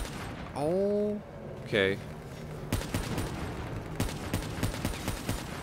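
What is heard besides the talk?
gunfire in the video game Call of Duty Black Ops 3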